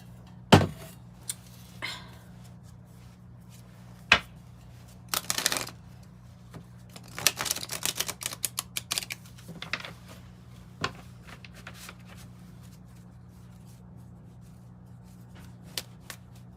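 A mixed Lenormand and Kipper card deck being shuffled by hand, with scattered soft riffles and slaps in bursts through the middle, over a steady low hum and no talk.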